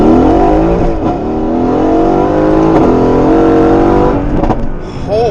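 A tuned 650whp Mercedes-AMG daily car accelerating hard, engine roaring loud and close from inside as revs climb steadily through gears with brief dips at shifts and turbo whooshes.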